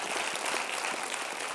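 An audience at a global security talk gives presenters a round of applause: a dense, steady wash of many hands clapping at once, even in loudness throughout with no voices on top.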